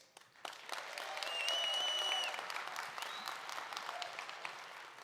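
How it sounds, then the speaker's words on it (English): An audience at the Rilla Masters 2025 opening remarks gives a round of applause, a steady dense clapping that swells and holds for several seconds with a faint whistle partway through. "So we're gonna do it by round of applause."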